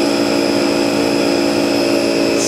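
Haas TM-1 toolroom lathe spindle running at about 3,500 RPM, a steady loud mechanical hum with a sustained tonal whine, continuous and unbroken throughout with no talking.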